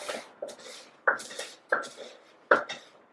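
Freshly roasted spices crushed in a mortar with a pestle, five or six sharp, close crunching strikes at an uneven pace with quiet pauses between them.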